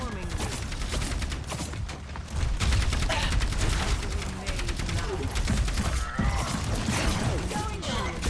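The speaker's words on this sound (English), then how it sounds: "I'm gonna mortar these bitches so good." Bastion's ultimate artillery in Overwatch 2 lands in a dense, continuous barrage of booming impacts and clattering game effects. The volley is loud and sustained, with fighting sounds layered underneath.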